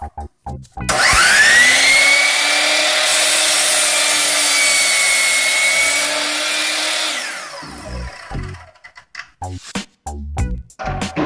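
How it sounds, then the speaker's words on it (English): A miter saw spins up and cuts through a wood plank for a dog house build: a loud, sustained whine for several seconds that winds down, followed by scattered clattering handling noises. "Other tools you will need will be saws, such as the miter saw."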